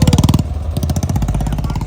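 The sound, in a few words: motorcycle engine passing on the road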